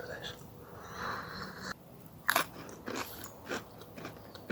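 Close, loud crunching bites into a very dry, crunchy MRE biscuit eaten outdoors in the woods, a few sharp crunches separated by quieter chewing.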